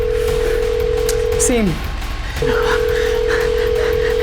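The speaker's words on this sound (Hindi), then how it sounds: "मैं फोन पर फोन किए जा रहा हूँ उसके इंडिया वाले नंबर पर वो फोन उठा ही नहीं रही है।" A telephone tone from an unanswered call hums loud and steady, drops out briefly while a single word is spoken, then resumes.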